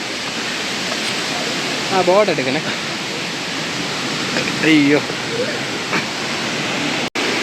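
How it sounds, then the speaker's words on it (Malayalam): A small waterfall roars as a steady, broad rush of falling water close by, while people talk briefly over it and a sharp click lands near the end. "ഒരു കുഞ്ഞ് വെള്ളച്ചാട്ടം."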